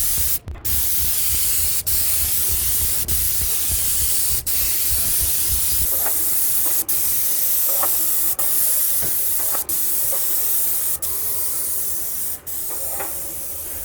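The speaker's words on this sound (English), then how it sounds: "We are spraying undercoat at the moment" A Graco spray gun sprays metal-primer undercoat onto a Colorbond fence, giving a loud, continuous airless hiss close to the mic, broken by several short sharp clicks and brief pauses as the trigger is worked.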